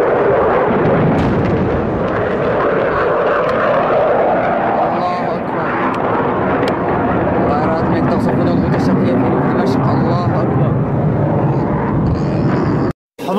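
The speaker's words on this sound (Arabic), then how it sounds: "فزائل فراغية من طائرات ميك." Air strike by MiG warplanes dropping vacuum bombs on a Damascus neighborhood during the Syrian war: a loud, continuous rumbling roar of blasts and jet noise fills the whole span, with voices shouting over it.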